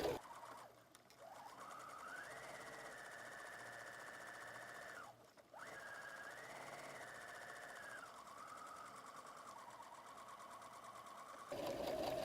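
Sewing machine stitching a back stitch on a messenger bag, its motor whirring steadily with speed changes and a brief pause midway, running close and fairly loud with no talk.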